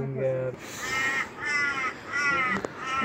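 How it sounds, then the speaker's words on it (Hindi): Crows cawing in a mountain village near Malana, three harsh drawn-out caws spaced about half a second apart, fairly near and loud, following a brief voice at the start. "कौए चुप रहे"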